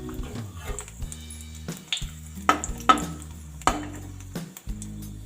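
Whole red chilli and ajwain crackle in hot oil for a radish sabzi, with a few sharp pops and spits over a low sizzle, plus light clinks of a spoon against the pan.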